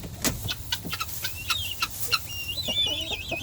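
Chickens clucking inside a coop with barred rocks, Easter eggers and guineas, a busy run of close short clucks followed by higher warbling calls near the end.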